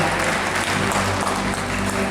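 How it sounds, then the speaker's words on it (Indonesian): An audience at an official visit by Indonesia's cooperatives minister breaks into loud, lively applause that continues evenly throughout, with a faint hum beneath the clapping. "Kita berikan tepuk tangan yang meriah."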